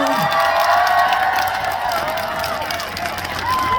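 Loud crowd noise of an audience cheering and applauding at the Gyeongju Sori Festival concert, a dense continuous roar with shouts rising over it.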